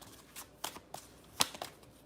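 A deck of cards is shuffled up close, a brief run of soft riffling flicks and sharper snaps over about two seconds with no talking.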